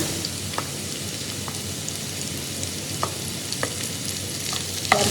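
Sliced onions and chopped green chilies sautéing in a pan give a steady, close hiss of frying, with a few faint clicks of stirring scattered throughout and no voices.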